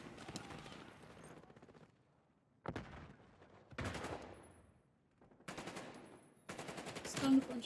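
Rapid bursts of gunfire in a Call of Duty–style Hardpoint match, several separate volleys of close, loud shots with short pauses between them, with no talk over them.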